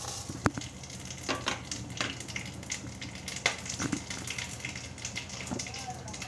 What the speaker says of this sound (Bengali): এবার ওই তেলেই কিছু ফোড়ন দিয়ে দিলাম, জিরে, তেজপাতা আর গরম মশলা